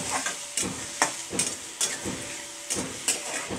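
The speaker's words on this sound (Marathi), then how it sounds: "आता चांगलं परतून घ्यायचं, कांद्याला लाल होईपर्यंत" Onions frying in a pan, stirred repeatedly as they brown, with a low background sizzle punctuated by about eight sharp scraping strokes of a spoon against the metal, close and moderately quiet.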